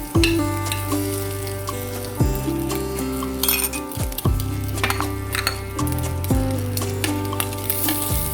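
Oil sizzles steadily in a non-stick pan as food fries, loud and close, with a utensil clinking and scraping at intervals while it is stirred.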